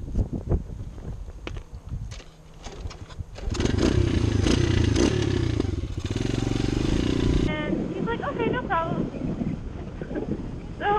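A 125cc pit bike engine roars steadily while riding and towing a quad on sandy ground, loud and buffeted by wind noise, with people talking over it near the end.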